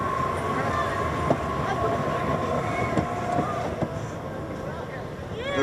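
The Batgirl Coaster Chase roller coaster at Six Flags Fiesta Texas dispatches, its train rumbling and clacking along the track with faint metallic squeals. A few sharp clicks and rising noise close out the stretch.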